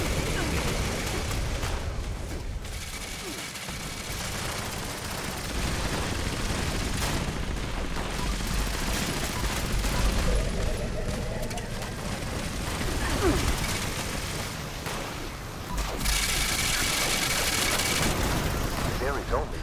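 Gunfire in a Fallout 76 battle against an enemy general: dense, repeated shots and bursts with booming impacts run throughout, mixed with in-game voices and a loud, noisy game soundscape.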